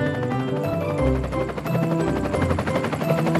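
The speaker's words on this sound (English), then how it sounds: "A helicopter is flying in the sky." Cartoon helicopter flying overhead in a children's animated show, a steady loud rotor drone with rhythmic chopping and low rumble filling the whole short stretch, with no talk.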